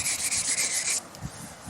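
Wet and dry 400 grit sandpaper rubbing paint off a 1934 Pacific Model 107 gives a rapid rhythmic scratching for about a second, then softer, duller strokes; close up with no talking.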